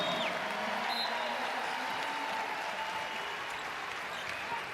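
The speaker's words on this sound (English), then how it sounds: "Nice round of applause for Collier." A basketball arena crowd at a women's college game, UConn against Tulsa, gives a player a round of applause, a moderate, distant wash of clapping that fades slightly toward the end, with faint squeaks audible behind it.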